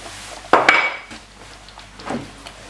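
Sliced carrot pieces dropped into a beef stew pot with red wine, a sharp clatter and clink of pot and utensil followed by a softer knock, close and alone.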